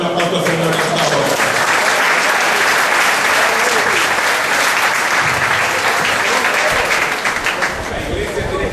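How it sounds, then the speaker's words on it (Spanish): A church congregation claps loudly for the Lord during a Spanish-language service, dense sustained applause filling the room and tapering slightly at the end, with a preacher's voice over it. "Denle un aplauso al Señor en esta hora"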